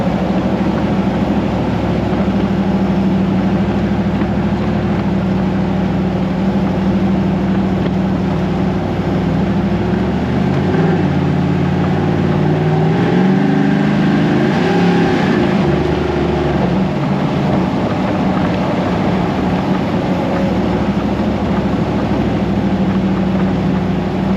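An LS-swapped Humvee engine roars loudly and steadily on a dyno, its pitch climbing and falling as the throttle is pushed in the middle before settling back into a sustained drone.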